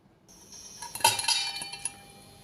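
Crisp, crackly crunching bursts close up from crispy fried coriander fritters (kothimbir vadi), a short cluster of brittle snaps peaking midway and then trailing off, with no talking.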